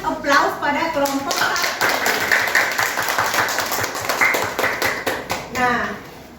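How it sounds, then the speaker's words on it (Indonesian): Classroom applause for group one, a patter of many hands clapping steadily for several seconds with a teacher's voice talking over it at the start and end. "mari kita berikan aplaus pada kelompok"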